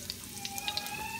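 Ginger sizzles in a hot pan for sweet and sour red snapper, giving a brief, steady, soft frying hiss with small crackles.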